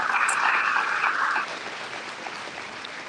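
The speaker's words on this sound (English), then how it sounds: "Another round of applause, please, as they leave the stage for Jasmine, Franny, and Grace." Audience applause at a county fair queen coronation, strong steady clapping that drops to a softer, thinning patter partway through.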